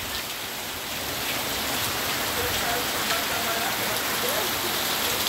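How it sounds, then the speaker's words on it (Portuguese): Heavy rain pours down on a farm in Bahia, Brazil, a dense, steady, close hiss of drops hitting the ground that fills the whole stretch without letup. "Muita chuva, viu?"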